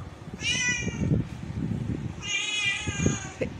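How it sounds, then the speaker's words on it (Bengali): A timid cat hiding under a bed gives two drawn-out meows, close and fairly quiet, separated by a pause, over low room noise. "এইখানে হচ্ছে বিড়ালের আওয়াজের উৎস"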